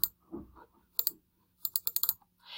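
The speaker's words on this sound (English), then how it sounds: "Or I can triple click" A computer mouse triple-clicks while selecting a line of text in Google Docs, heard as a tight, sharp burst of clicks that stands out against other faint, scattered clicks and keyboard taps in a quiet room.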